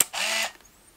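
A camera gives a short whirring, shutter-like burst of about half a second right after a photo is taken at a busy racecourse car boot sale, then fades to faint background. No one speaks.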